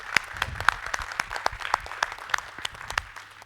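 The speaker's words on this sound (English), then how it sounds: "Claps to all." Small audience at an oil and gas pipeline summit in Ahmedabad claps in quick, uneven bursts, distinct individual hand strikes close by, with a low hum beneath and no talking.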